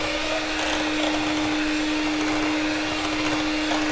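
An electric mixer beats cake batter as eggs are added, giving a steady, continuous motor whine with a constant pitch that fills the whole stretch, close and loud, with no voices.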